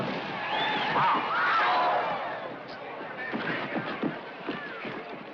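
Rodeo bronc riding in a 1950s arena, a bucking horse with hooves pounding the dirt and a faint whinny under a steady, noisy crowd roar, with people talking throughout.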